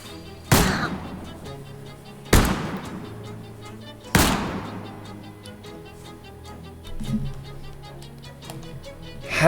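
Three sharp, loud single gunshots from the Shadows over Loathing video game, each one spaced a couple of seconds apart and trailing into a short decay over a quiet musical background.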